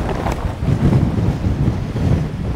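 Strong wind gusts at a campsite batter the microphone and a Trailstar shelter in a continuous low, surging roar that swells and eases.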